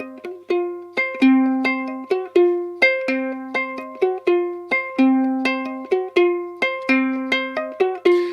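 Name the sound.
ukulele playing a rock riff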